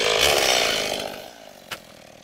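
A chainsaw roars loud and close while clearing trees on a mountain track, its engine buzz tapering off, then a short sharp crack near the end.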